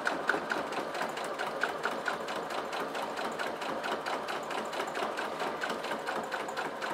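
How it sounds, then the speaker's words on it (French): A sewing machine with a teflon foot runs a continuous seam through coated fabric for a shopping bag, a steady fast rattling hum with a regular stitching pulse throughout, close and without talk. "C'est parti pour la couture, j'oublie pas mon point d'arrêt."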